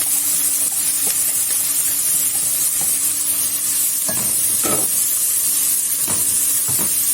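Finely chopped onion frying in hot oil, a steady loud sizzle and hiss throughout, with several scraping stirs of a utensil against the pan near the end and no talk.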